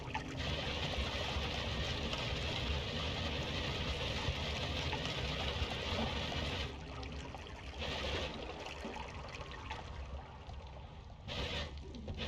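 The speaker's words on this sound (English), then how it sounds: "Release the water." Water released in the video game Noita rushes and trickles steadily for several seconds, then thins and breaks into intermittent splashing spurts, loud and continuous with no talk.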